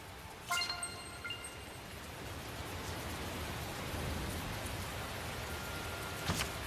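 Steady rain in the video game Tales of Zestiria hisses throughout as a dense, even wash of noise, with a faint chime-like ring near the start and a brief thump at the end.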